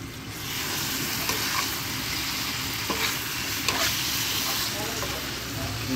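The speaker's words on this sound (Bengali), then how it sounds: "ডিম রান্না করা হচ্ছে" Eggs sizzle and fry in a pan while being stirred, a loud continuous hiss broken by occasional scraping clicks of the spatula, heard up close.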